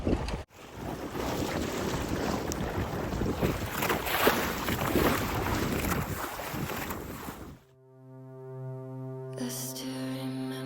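A sailboat under sail in a steady 10-knot southerly on the North Channel, with a loud rush of wind and water noise for about seven seconds, then a sudden drop to quieter tonal hum and clatter near the end.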